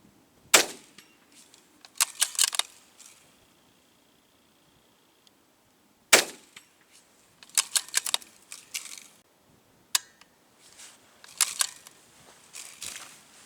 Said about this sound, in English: I'm shooting over the top